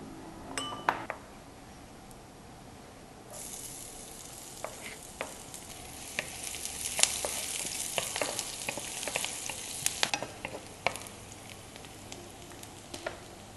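Curry leaves and shallots frying in a pan for Malaysian spiral curry puffs, a soft crackling sizzle that grows busier after a few seconds, with scattered clinks and scrapes of stirring, close and alone.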